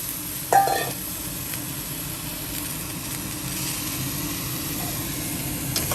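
Blanched vegetables stir-fry in a pan over raised heat with water from rinsing a mortar. A steady close sizzle runs throughout, with a brief metallic clank of the pan early on.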